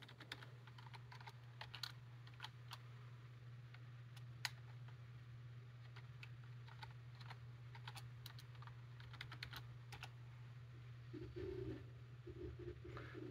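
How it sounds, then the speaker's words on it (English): Keys clatter on a computer keyboard as an encryption passphrase is entered, a quiet run of irregular taps over a low steady hum, with a couple of louder clicks and no speech. "now I need to type the encryption passphrase."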